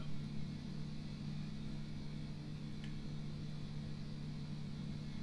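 A car engine in the Miscreated video game drones steadily at a low, even pitch while driving, fairly quiet and unbroken, with no talk over it.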